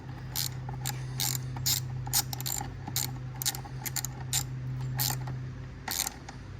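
A hand ratchet snugs a 10mm nut down on the fuse box of a 2011-14 Ford F150, close up, in short repeated bursts of rapid clicking over a low steady hum.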